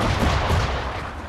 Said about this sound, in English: It's like they fired directly at me.